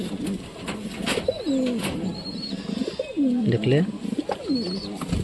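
Domestic pigeons in a home loft coo repeatedly in low, rolling phrases close by, with faint chirps above and a person speaking briefly between the calls.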